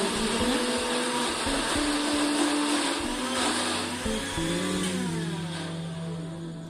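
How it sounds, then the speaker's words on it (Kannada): A kitchen mixer grinder runs close and loud, whirring continuously as it grinds curry leaves, garlic and cumin into a masala for coconut curry. The motor pitch shifts slightly partway through, and the sound eases toward the end. "ಬೆಳ್ಳುಳ್ಳಿ, ಜೀರಿಗೆ, ಅಲ್ಲ ಇವೆಲ್ಲ ಹಾಕ್ಕೊಂಡು ಮಿಕ್ಸಿಗೆ ಹಾಕ್ಬೇಕು ನೋಡ್ರಿ"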